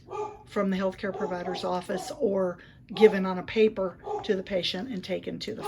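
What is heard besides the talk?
dogs barking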